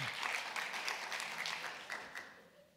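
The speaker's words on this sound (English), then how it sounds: "A big round of applause for Ms. Harris." Applause from an audience at an education department reading strategy launch, a soft, distant patter of many hands that gradually thins and fades out toward the end.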